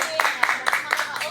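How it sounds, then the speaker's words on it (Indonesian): A school podcast audience of junior high students claps briefly together, a handful of bright, uneven hand strikes at close range with soft chatter mixed in. "Tepuk tangan semuanya yuk."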